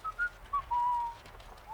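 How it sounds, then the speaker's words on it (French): Someone whistles a few short, wavering notes in quick separate phrases, a thin, faint melody over a quiet background. "Ah, arrêtez de siffler."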